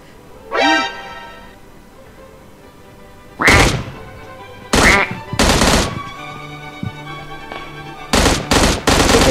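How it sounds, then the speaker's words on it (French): Gunfire in PUBG Mobile: a single distant shot, then several loud close bursts of automatic fire in separate clusters with quiet gaps, ending in rapid shots, no talk over them. "Ça tire, qu'est-ce que c'est?"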